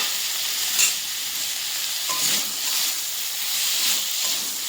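Rohu fish curry sizzling and hissing steadily in an uncovered pan, with a few brief scraping stirs and soft surges of steam over the constant fry.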